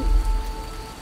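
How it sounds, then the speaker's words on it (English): Steady rain falls in The Witcher video game, a brief dense hiss of drops hitting the ground with a low rumble beneath and no voices. "Oh my goodness, it's raining."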